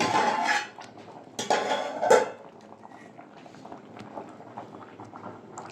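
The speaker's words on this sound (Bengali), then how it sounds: "ঢাকাটা খুলে নেবো।" A metal lid comes off a pot of simmering whole lentils, with a couple of sharp clanks and metallic scrapes, then quieter bubbling and faint rattles; no talk.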